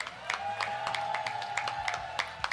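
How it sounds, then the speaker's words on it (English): Sparse clapping from a modest audience at an Excel esports awards event, around ten scattered claps in a row, fairly faint over a steady tone. "That's where you all applaud."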